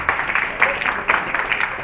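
An audience at a formal speaking event claps in a scattered, uneven patter of moderate loudness, with individual claps standing out in a short burst.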